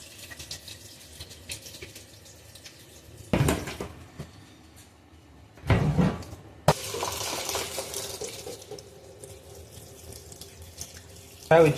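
Soaked rice washed in a sink under a running tap, with steady water flow and a few louder splashing, clattering bursts of handling in between.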